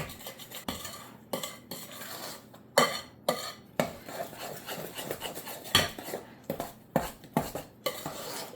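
A spoon scrapes and clinks against a bowl while strawberry freezer jam mixture is stirred, coming in uneven bursts of close, gritty strokes separated by short pauses, with no voices.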